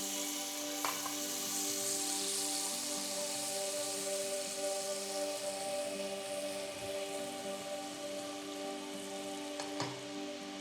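Chopped onions, cloves and cardamom frying in a pan for pudina avare kalu palav, a steady close sizzle that holds for about ten seconds with a faint clink or two, no talking.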